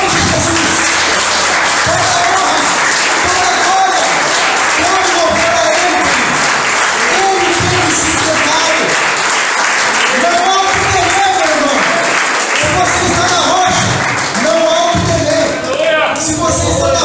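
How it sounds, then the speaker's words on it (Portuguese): A church congregation applauds loudly and continuously, a dense wash of clapping with voices and cheers mixed through it. "eu quero que você dê o seu melhor aplauso para Cristo agora"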